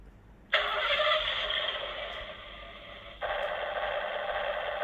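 A toy RC double decker bus (Double E model) plays its engine sound effect: a loud synthetic motor drone starting abruptly, dipping briefly, then resuming steadily, heard alone without talk.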